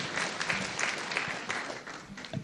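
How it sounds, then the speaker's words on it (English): Audience applauding panelists at a live news event, a steady broad wash of clapping that holds at moderate loudness throughout, fairly close and uninterrupted. "Let's give them a round of applause. Let's clap for our panelists."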